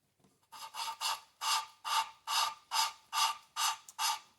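A Citroën GSA X3 part is resurfaced by rubbing it back and forth on a coarse abrasive, giving about ten evenly paced gritty scraping strokes, close and clear, with no talk.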